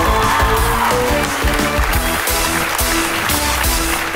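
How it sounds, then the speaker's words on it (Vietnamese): A studio audience at the Vietnamese game show Nhanh Như Chớp breaks into loud, dense applause for a contestant, a steady wash of clapping that fills the whole stretch without pause. "Vỗ tay cho Sammy, quá dễ thương ngày hôm nay."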